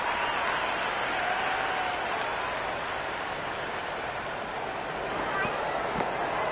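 A huge stadium crowd at an India vs Pakistan T20 cricket match keeps up a dense, continuous roar of cheering and applause, with a commentator talking over it.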